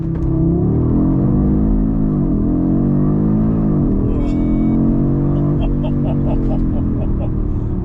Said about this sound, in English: It would be rude of me not to try out a 0 to 60 test, so I've got my Race Logic V-Buck set, full launch control.